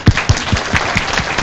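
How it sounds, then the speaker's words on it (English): Close, loud claps from a small audience applauding a speaker, heard as a handful of distinct hand strikes in a quick irregular rhythm. "Can we clap for her?"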